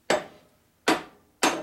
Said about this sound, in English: Light taps with a lead hammer.